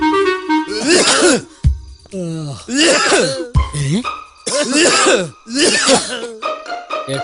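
A man in a Malayalam movie scene coughs and hacks in repeated harsh, throaty bursts, loud and close, with brief gaps and rough vocal strain between fits.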